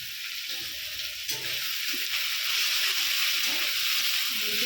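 Turmeric and chili powder masala with ginger-garlic paste sizzling in a pan for aloo dum, a steady bright hiss of frying with occasional soft scrapes of stirring, close and continuous.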